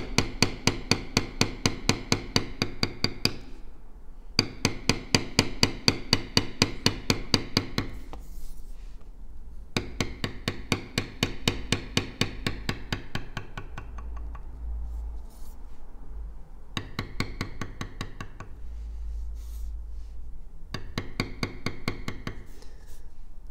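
A mallet taps a bevelling tool into leather again and again as a belt pattern is tooled, sharp rapid strikes coming in bursts of several seconds separated by short pauses, close and crisp.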